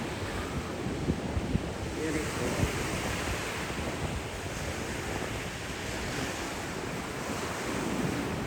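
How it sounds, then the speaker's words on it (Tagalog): Ocean waves surging on a Kauai shore in Hawaii, a steady broad wash of surf with wind buffeting the microphone throughout. "Nakaka-relax yung sound ng wave."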